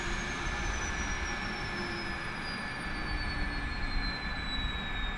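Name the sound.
APU shutting down on MD-82 airliner, MSFS2020 video game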